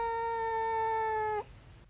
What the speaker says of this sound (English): I feel like I should not be watching this cat constipated trying to poop.